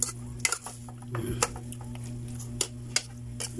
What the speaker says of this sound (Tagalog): At halu-haluin